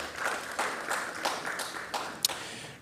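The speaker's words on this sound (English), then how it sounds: "Please, let's give them a round of applause." An audience at a formal ceremony in Ghana claps steadily for a few seconds. The applause is moderately loud and even, with a sharp tap near the end.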